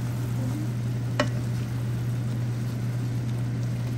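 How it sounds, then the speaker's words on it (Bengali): Boiled greens being mixed in a cooking pan with lentil nuggets nearby: a soft continuous sizzle under a steady low hum, with one sharp utensil clink partway through and no voices. "এবার সবকিছু আবার ভালোভাবে মিশিয়ে নিতে হবে।"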